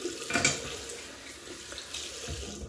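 Water runs from a tap while a razor is rinsed, a soft steady splashing stream with a brief louder burst near the start.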